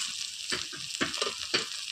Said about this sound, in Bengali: চলো টমেটোটা দিয়েও আর একটু ভাজা ভাজা করে নিই।